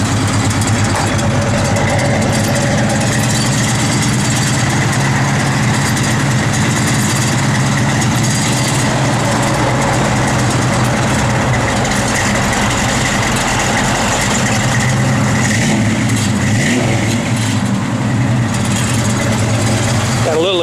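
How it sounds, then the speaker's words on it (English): A 1969 Chevrolet Camaro SS V8 running steadily with a loud, continuous low engine drone and a faint exhaust hanger rattle, with voices talking quietly beneath it. "Got a little exhaust hanger rattling or something."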